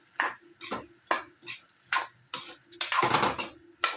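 A ground coconut, cumin and turmeric paste is stirred into a banana flower poriyal, the spoon tapping the pan in a steady rhythm of crisp clinks with a short scraping burst near the end.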